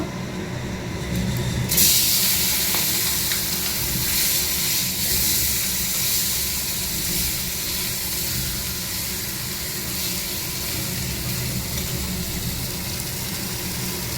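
Fish frying lightly in hot oil with dried red chilli and mustard seeds: a loud, steady sizzle bursts in after a quiet start and hisses on without pause.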